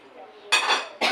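A metal lid clanks down onto a cooking pot of fish, two bright clattering hits in quick succession after a soft hum.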